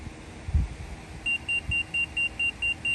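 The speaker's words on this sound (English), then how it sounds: "when you get a solid beep, it's level" A laser level receiver gives a steady series of short, high electronic beeps repeating at an even pace, preceded by a brief low thump, with faint background noise.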